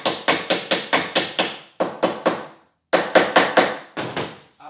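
Light hammer blows tap the tailgate striker of a VW Saveiro Cross, close and crisp, in quick even bursts of about seven strikes, then three, then five, with short pauses between the groups.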